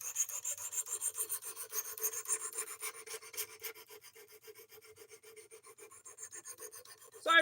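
A knife blade is drawn against a sharpener in a steady back-and-forth rasp of about two strokes per second, close and fairly quiet, with no voices, ending in a brief louder scrape.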